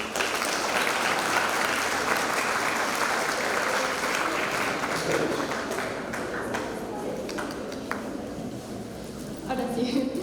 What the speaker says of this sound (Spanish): Las recibimos con un fuerte aplauso.